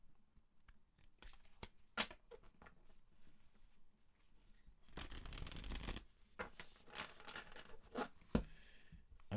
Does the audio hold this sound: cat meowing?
no